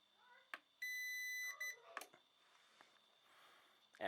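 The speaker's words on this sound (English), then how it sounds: "it beeps a little bit" A CyberPower CP1350PFCLCD UPS gives a sustained electronic beep lasting under a second as it is plugged in, amid faint clicks and handling noises in a quiet room.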